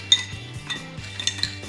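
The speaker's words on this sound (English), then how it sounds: "we're going to add the ice now" Ice cubes drop and clink into a cocktail glass for an old fashioned, giving several sharp, close chinks and knocks over a few seconds, with no talking.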